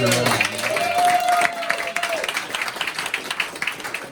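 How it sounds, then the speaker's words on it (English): Applause at an auto shop's Christmas party: a close crowd clapping with a rising whoop or whistle and cheering voices early, then thinning into scattered claps. "Let's give a nice round of applause."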